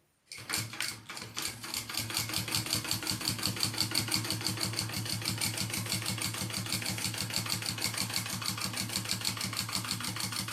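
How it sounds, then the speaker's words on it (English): Sewing machine topstitching card-slot pockets on a crossbody bag, starting with a few slow stitches, then a fast, steady mechanical chatter of even stitches running close and continuous, with no talk. "So I'm going to top stitch those."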